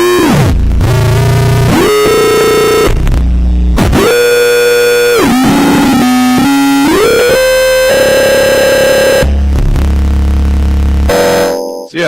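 A Moffenzeef Stargazer synthesizer plays its hard sync algorithm, loud harsh buzzing tones that jump between pitches and sweep sharply, with abrupt stops and changes in timbre and no talking.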